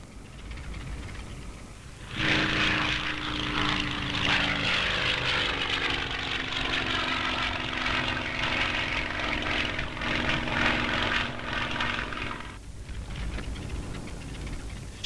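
A propeller-driven airplane flies close by with a loud, steady engine drone and rising-falling harmonic tones, holding for about ten seconds before cutting off sharply, with quieter ambient noise on either side.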